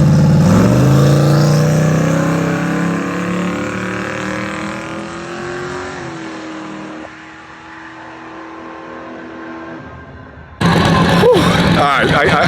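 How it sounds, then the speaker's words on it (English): A twin-turbo LS-swapped Dodge Charger launches in a drag race, its engine loud and close as it revs up and climbs through a long pull, then drops away. A voice cuts in near the end. "I don't even think I pressed the gas pedal all the way."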